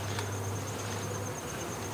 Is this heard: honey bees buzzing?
yes